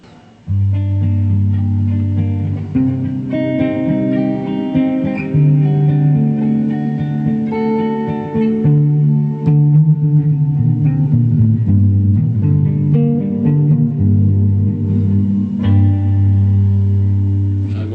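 A warm, sustained electric guitar through a Blackstar HT20 Mark II tube amp head plays chords and single notes with a full amplified tone, ringing out steadily without any talking.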